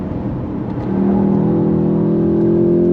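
A 2025 VW GTI Mk8.5, a front-wheel-drive performance hatchback, accelerates hard. Its engine note climbs into a steady, loud drone that rises in pitch and holds, heard from inside the car without talk.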